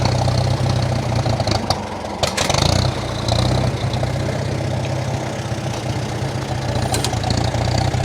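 A 1947 Farmall M tractor engine idling roughly and unevenly with old fuel in it, a steady low chugging rumble close by with a brief surge partway through.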